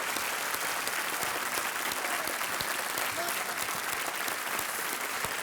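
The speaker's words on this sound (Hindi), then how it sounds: "तालियों के साथ हमारे जो आज खिलाड़ी हैं उनका स्वागत किया जाए।" Studio audience at a quiz show applauding to welcome the contestants, a dense, steady wash of clapping from many hands that continues without a break.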